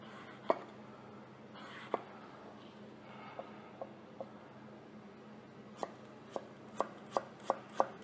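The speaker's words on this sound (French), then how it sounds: "donc on va aussi faire une petite julienne." A knife chops a Granny Smith apple into julienne on a board, giving sharp isolated taps spaced apart at first, then quickening into a steady run of cuts near the end.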